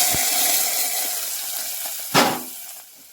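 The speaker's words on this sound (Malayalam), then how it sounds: "കടുകും കറിവേപ്പിലയും 2 ടീസ്പൂൺ വെളിച്ചെണ്ണയിൽ നമുക്ക് പൊട്ടിച്ചിട്ട് അതിലേക്ക് വറുത്തിടാം" Mustard seeds and curry leaves crackling in two teaspoons of hot coconut oil: a loud, close, steady sizzle with a sharp burst of spluttering near the end as the tempering hits the pan.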